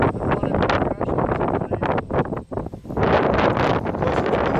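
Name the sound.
wind blowing outdoors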